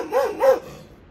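A tied-up dog in a village gives two quick, close barks about a quarter second apart, then falls quiet.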